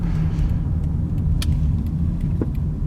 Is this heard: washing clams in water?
no